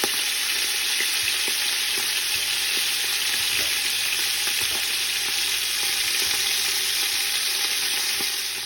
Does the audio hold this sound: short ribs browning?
yes